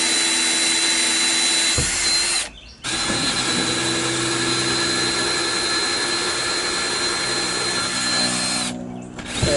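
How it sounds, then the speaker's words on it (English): A power drill bores into a wooden sideboard on a reclaimed-wood greenhouse deck, a steady close whine that stops briefly, restarts with a clunk, and keeps running. "Drilling a hole into the sideboard."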